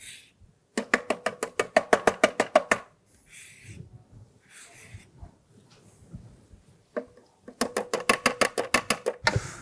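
Two lemons are zested for lemon curd, with two long runs of fast, even rasping strokes close by and a stretch of quieter handling noises between them.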